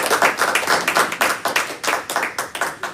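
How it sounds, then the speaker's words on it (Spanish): A church congregation claps in an even, rhythmic beat, loud and close, with many hands striking together in regular pulses and no voices over it. "Hermano, démonos una ofrenda de aplausos al Rey."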